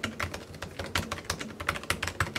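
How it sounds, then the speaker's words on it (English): Typing on a MacBook Pro 13-inch Touch Bar keyboard, a quick run of crisp, fairly loud key clicks close up in an irregular rhythm, with no talking. "be aware that this new keyboard design is a little bit louder than the previous mechanism"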